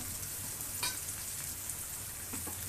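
A pot of dal made from kalai, mung and masoor lentils bubbles steadily at a boil, a close, constant sizzling hiss with a couple of faint taps and no voices.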